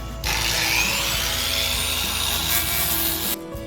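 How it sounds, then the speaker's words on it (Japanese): Belt grinder attachment on an angle grinder working the rotted floor of a used Indy 727 camper van, a harsh continuous abrasive rasp held for about three seconds, close and loud. "グラインダーです。"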